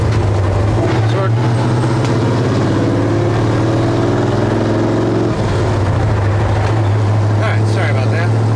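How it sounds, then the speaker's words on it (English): A 1964 Ford truck with glass pack mufflers mounted under the cab gives off a loud, continuous, throaty rumble. Its pitch climbs briefly mid-way before settling back to a heavy idle drone. "Loud truck, glass packs right underneath the cab"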